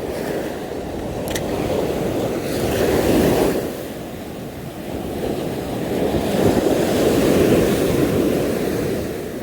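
Ocean waves roll and break steadily on a calm shore during a fishing outing, a loud, continuous wash of surf that swells and recedes in slow cycles with no voices.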